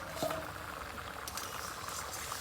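Fig and potato curry simmering in a covered pot, a soft steady bubbling hiss with small pops, quiet and close, no voices.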